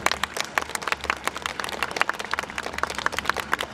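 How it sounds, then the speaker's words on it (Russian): Applause from a concert audience fills the hall, a dense, steady patter of many hands clapping for a folk ensemble from Krasnodon, close and continuous without pause. "Ваши аплодисменты."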